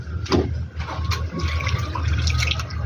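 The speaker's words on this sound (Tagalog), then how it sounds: "nagsasahod ako ng tubig sa ulan" Rainwater splashes and trickles into a container, a soft, close pouring with a few louder splashes over steady wet running water.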